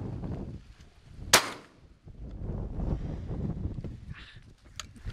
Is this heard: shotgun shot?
yes